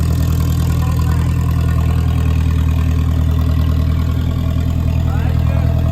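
A car engine idles steadily with a constant low rumble as the vehicle is backed up slowly, the hum running unbroken throughout with no revving.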